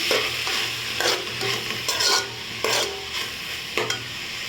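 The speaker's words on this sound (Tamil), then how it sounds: "ஒரு தக்காளி பழத்தை சேர்த்துக்கலாம் அதையும் சேர்த்து நல்லா வதக்கிக்கலாம்" Onions and tomato sautéing in a pan for beef pepper gravy, with a spatula stirring and scraping through the frying mix over a steady close sizzle, no voices.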